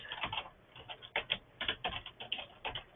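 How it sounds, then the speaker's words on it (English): Fingers tap out a short, uneven burst of keystrokes on a computer keyboard, soft, close clicks clustered in quick runs with brief pauses between them. "I am going to go ahead and type in"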